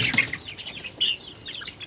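Chickens cluck and cheep softly at a farm, a few short calls scattered over quiet background, with a brief flutter.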